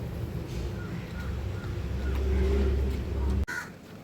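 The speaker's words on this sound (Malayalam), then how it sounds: "ഉണ്ണിയുടെ ചോറെല്ലാം കാക്ക തിന്നണം." A crow caws close by over a steady low rumble, which cuts off abruptly near the end.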